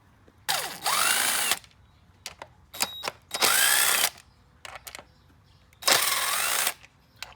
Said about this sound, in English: Now we're going to undo these bolts here.